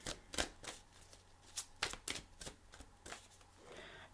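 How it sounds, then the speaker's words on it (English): Tarot cards being shuffled by hand during a psychic reading, a quiet series of crisp riffling flutters and soft snaps at irregular intervals, close by with no talking. "I feel like I'm shuffling them the wrong way"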